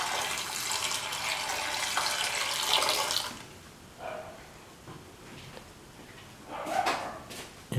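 Water from a tap or jug is poured into a cooking pot for a carrot, green lentil and vermicelli dish. The steady broadband rush fills the first three seconds, then quieter clatter and a short later splash follow.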